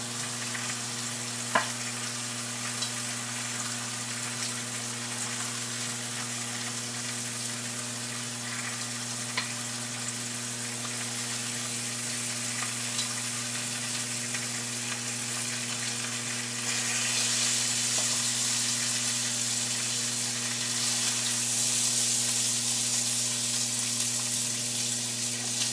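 Seared country style spare ribs sizzle and fry in a pan, giving a steady, dense hiss that runs without a break and swells slightly louder toward the end, with no voices.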